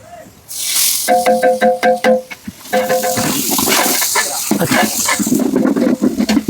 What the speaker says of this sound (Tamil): இஞ்சி பூண்டு பச்சை வாசம் போகிற வரைக்கும் நல்லா வதக்க விடணும்